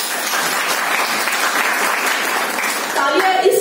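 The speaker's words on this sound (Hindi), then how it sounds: "तालियां होनी चाहिए।" An audience at a distributors' training session breaks into loud, close, continuous clapping, and a voice speaks over it toward the end.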